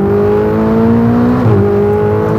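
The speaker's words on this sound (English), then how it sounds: "for a turbocharged engine, it gets up to the rev limiter pretty damn quickly" Ferrari 488 GTB turbocharged engine revving hard on track, a loud steady drone with strong harmonics, dipping briefly around a gear change then holding again.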